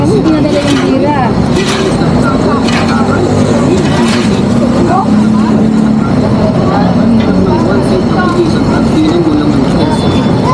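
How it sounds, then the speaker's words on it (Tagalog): A busy Recto LRT station in Manila, with a steady roar of train and traffic noise and a dense crowd murmur, and people talking throughout. "Nandito na tayo sa Recto LRT Station."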